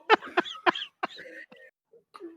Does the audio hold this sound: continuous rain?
no